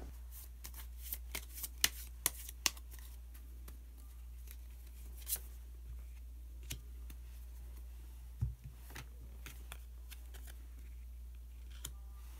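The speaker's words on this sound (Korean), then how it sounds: "카드 한 장을 더 뽑고 이야기 계속 나누도록 하겠습니다" Tarot cards being shuffled and drawn during a fortune reading: quick papery riffles and crisp card snaps, loudest early then scattered, close by over a steady low hum.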